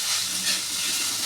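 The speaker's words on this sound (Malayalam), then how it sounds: "നന്നായിട്ട് വഴറ്റി വരട്ടെ" Onions sautéing in hot oil for fish curry, a loud, steady hissing sizzle heard up close with no pauses or voices.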